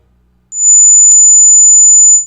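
A piercing, high-pitched pure test tone of 20,000 hertz cuts in abruptly after a brief silence and holds steady and loud for nearly two seconds before fading out.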